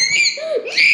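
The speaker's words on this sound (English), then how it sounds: "stop screaming" A child lets out a short, shrill scream with rising and falling pitch, loud and close, indoors during a card unboxing.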